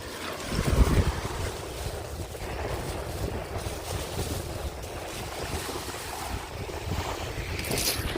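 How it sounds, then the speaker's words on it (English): Ocean waves wash steadily onto a beach at Sanibel Island, Florida, as a continuous broad surf rush with some wind buffeting the microphone and one brief louder bump near the start. "Alright, I'll just film the ocean for a little bit, so anybody wants to just listen and relax."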